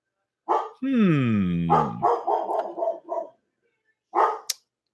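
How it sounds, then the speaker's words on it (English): A dog at a home that also serves as a hair salon barks at people coming and going, giving a long drawn, howling bark followed by a rapid string of loud, close barks and a final yap. "And Gilbert loves to bark at everyone who comes and goes"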